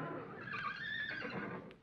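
A horse neighs in a 1961 television sitcom scene about riding, a single clear whinny with a rising and falling wavering pitch, fairly near and heard alone without talk.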